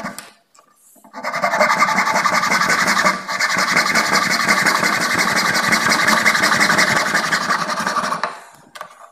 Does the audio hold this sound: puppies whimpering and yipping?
no